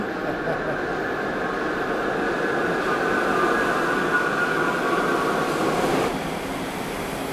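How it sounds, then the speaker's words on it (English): A steady rumbling roar of a 1 Train subway arriving at World Trade Center station, loud and close, holding level for several seconds before easing slightly near the end. "I think it's going to get eclipsed by a train."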